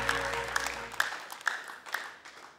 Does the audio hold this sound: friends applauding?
yes